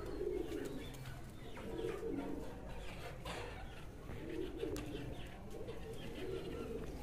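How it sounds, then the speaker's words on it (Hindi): Pigeons, including a young bird, coo in low, soft repeated phrases in a steady rhythm, with faint chirps and background bustle around them in a loft at night. "ये देखें ये माशाल्लाह से जी बैठ रहा है जवान कबूतर"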